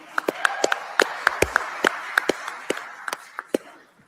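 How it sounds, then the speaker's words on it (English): Sparse applause at a forum on discovery, individual sharp claps scattered and fairly close, a small scattered group clapping unevenly rather than a full-room ovation. "Let's have a round of applause for Susan."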